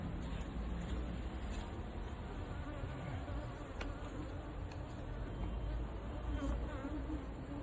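Dense, steady swarm of honeybees droning continuously during a hive removal, a thick close hum filling the whole stretch with occasional brief clicks.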